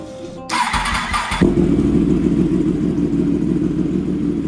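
A Yamaha R1 sport bike that had sat unused for months cranks briefly, then catches and settles into a steady, loud, close idle with no talking.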